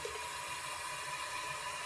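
Warm water being poured out of a container into a sink during toothbrush sanitizing, a steady rushing splash running throughout, close and unbroken.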